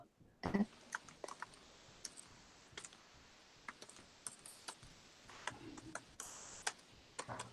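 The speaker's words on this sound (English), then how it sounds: "I know the toughest part is typing the intro." Typing on a computer keyboard in a quiet room, irregular bursts of close clicking keystrokes with short pauses between them and no talk.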